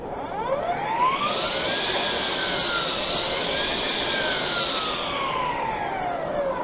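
A battery-powered Husqvarna cut-off saw whines steadily with a high, rising and falling tone as the blade spins up and cuts, continuous and fairly loud, at a building trade show.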